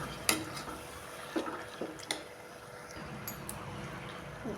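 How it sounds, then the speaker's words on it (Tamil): Goat intestines being stirred into a curry pot give a few light scrapes and soft metallic clinks of a spoon against the pot, sparse and close over a quiet kitchen background. "குடலை சேர்த்துடலாம். நல்லா கிண்டி விட்டுக்கலாம்."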